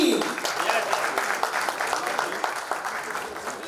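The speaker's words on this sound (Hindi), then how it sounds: "जोरदार धमाकेदार तालियां हो जाए for our lead actor" Audience applause for lead actor Manoj Joshi at a film first-look event on stage, steady clapping through the stretch with some voices mixed in.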